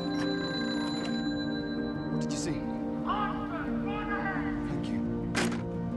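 A telephone rings on the Titanic, with repeated bell-like ringing over a humming background and a Spanish-speaking narrator talking across it.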